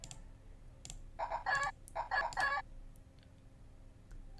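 A hen clucks in the Discworld video game, two close, loud bursts of rapid clucking in the middle, with faint clicks before and after and no talking.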